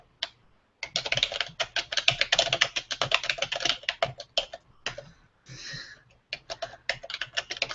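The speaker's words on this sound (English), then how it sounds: "Sorry that my keyboard is so loud." Rapid, irregular clacking of a computer keyboard being typed on, close and fairly loud, with a couple of brief pauses between bursts.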